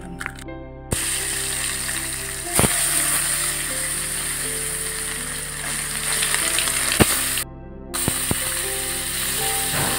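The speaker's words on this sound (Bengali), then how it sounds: "তো চলো মাছটা ভেজে নিই।" Fish frying in a pan on an induction cooktop, a continuous close sizzle with a few sharp clicks and clatters, two short silent gaps interrupting the steady frying noise.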